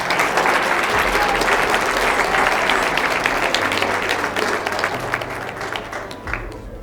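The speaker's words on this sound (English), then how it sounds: "Let's give him a round of applause." An audience applauds a man called Ty at a Pathways speech in Oklahoma City, loud, dense clapping that fills the room and holds steady before tapering slightly near the end.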